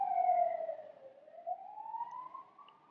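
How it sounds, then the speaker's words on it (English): A siren passing on the road outside, a single wailing tone that sweeps down and then climbs again, moderately loud and alone with no talk over it. "I'm waiting for that siren to pass"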